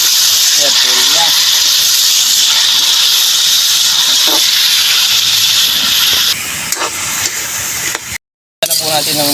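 Pork offal sautéing with ginger and garlic in a hot pan gives a loud, steady sizzling hiss that runs almost unbroken, with a brief gap near the end.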